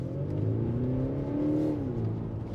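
An Audi SQ5 Sportback diesel engine with a synthetic exhaust sound revs up and settles, a loud, continuous droning growl with a pitch that climbs and then eases back, no talking.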